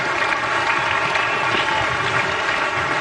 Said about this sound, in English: The England captain applauding his opening partner.